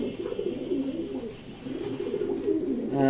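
Soft, low cooing of racing pigeons in a loft, a few overlapping murmured calls at moderate distance with faint background noise and no talk.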